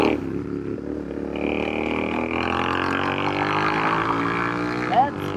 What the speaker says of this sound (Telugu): and you're riding a royal Enfield